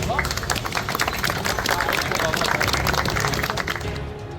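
A crowd of onlookers applauds police officers at a public gathering, with steady, dense clapping running throughout alongside a murmur of voices, fairly loud and continuous until it eases slightly at the end.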